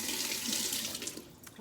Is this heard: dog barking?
no